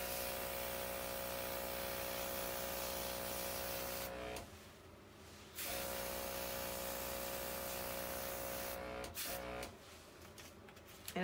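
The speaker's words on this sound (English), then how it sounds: "This is the OPAWZ Airbrush, and I'm using OPAWZ ink" An OPAWZ airbrush sprays OPAWZ ink during creative dog grooming. The spray is a quiet, steady hiss that stops twice in short pauses before resuming, close by and with no talking.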